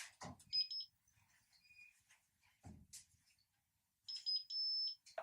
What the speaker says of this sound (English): you heard the beep beep, long pause, beep beep beep